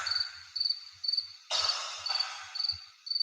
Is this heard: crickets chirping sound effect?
yes